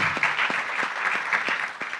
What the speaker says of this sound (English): I want you to give a round of applause to UBA and UBA's leadership